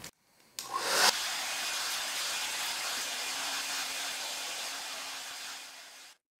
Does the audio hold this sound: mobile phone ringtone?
no